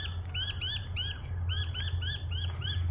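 Repeated squawky calls from birds in a park in short bursts over a steady low hum, fairly close and clear, with a brief pause midway before the calls resume.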